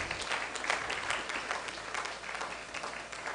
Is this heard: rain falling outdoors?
no